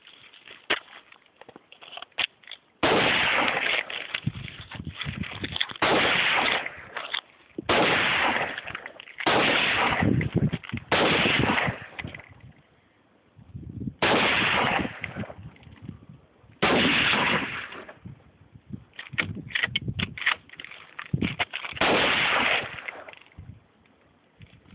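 AR-15 rifle gunshots ring out in a series of loud, close blasts with echoing tails, spaced irregularly across the stretch, with quieter gaps between shots.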